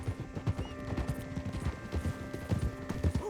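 Horse hooves clip-clop at a steady walking rhythm in Red Dead Redemption 2, close and clear over a low ambient hum, with a faint whinny and no talk.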